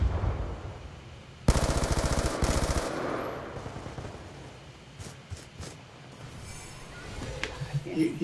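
Rapid bursts of automatic fire from a sentry gun in the Black Ops 2 team deathmatch, a loud sustained volley followed by scattered shots and game noise, with a voice briefly heard.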